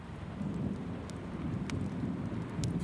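Steady heavy rain falls outside a cabin during a thunderstorm, with low rumbling thunder beneath the constant hiss and a few sharp drip or crackle accents, no voices.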